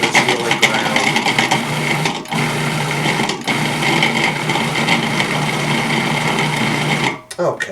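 A food processor pulsing ground salmon, its motor whirring loudly in long bursts separated by brief stops, ending in a short pause and restart.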